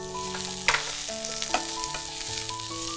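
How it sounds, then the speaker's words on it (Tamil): Vegetables stir-fried with boiled peas in a pan give a soft sizzle under background music, with a couple of sharp scraping clatters from the spatula. "இந்த வேக வச்ச பட்டாணி சேர்த்துக்கிறேன்."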